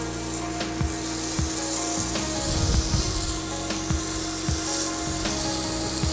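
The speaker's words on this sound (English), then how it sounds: "place it on the pan, hot pan, with a little bit of oil" Halloumi cheese sizzles in a little oil on a hot pan over medium heat, a soft, steady hiss broken by a few light knocks and scrapes.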